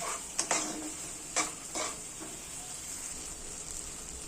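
A spice paste with yogurt, sugar and fish roe is sautéed in a pan, with a few scattered stirring scrapes and light clinks over a faint, steady sizzle.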